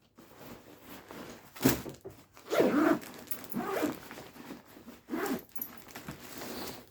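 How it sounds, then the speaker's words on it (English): Zipper on an everyday-carry bag holding a first aid kit and torch being pulled closed in several quick rasping strokes, close and fairly loud, with rustling between pulls. "Let's put this back there with the first aid, the torch, and zip it up."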